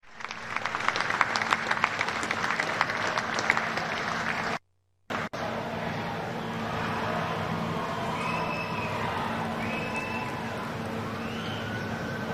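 A crowd in Washington cheers and applauds for J.D. Vance, loud and dense at first, then broken by a brief dropout and replaced by a lower, steadier crowd murmur.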